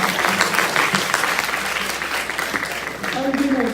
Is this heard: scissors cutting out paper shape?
no